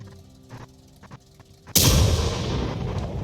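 A high-tier Soviet self-propelled artillery gun fires in World of Tanks, a single sharp, heavy boom after quiet mechanical clicks, with a rolling rumble trailing off.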